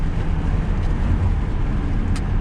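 A BMW Z4 35is exhaust drones loud and steady through a short stretch of driving, a dense low rumble with no talking.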